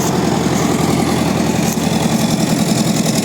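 A combine harvester engine fitted with a Don-1500 rotating air intake runs steadily at a loud, close idle with a constant rumbling drone and no talk.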